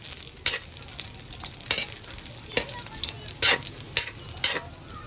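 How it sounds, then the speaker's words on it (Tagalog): Kikiam frying in a pan hisses steadily up close, while a utensil repeatedly scrapes and stirs through the sizzle at irregular moments. "Pritohin muna natin yung ating kikiyam."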